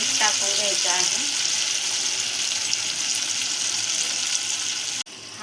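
Raw mango sizzles in hot oil with asafoetida and salt, a continuous soft hiss of frying, with a brief voice at the start and a clunk near the end.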